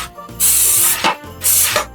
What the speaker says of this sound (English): Going to go ahead and use a cooking spray